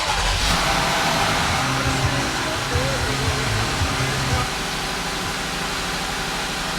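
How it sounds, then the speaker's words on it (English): A 2025 Jeep Gladiator with the top off idles and revs inside a garage, a steady loud engine drone that drops slightly in level partway through, with no talking. "we're going to go ahead and fire it up in the garage so you can hear what it sounds like with the top off"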